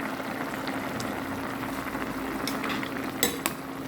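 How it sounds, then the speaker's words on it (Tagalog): Adobo boiling in a pot gives a steady, low bubbling simmer, with a few brief clinks of a utensil against the pot near the end. "Ito na po ang ating adobo at siya'y kumukulo na."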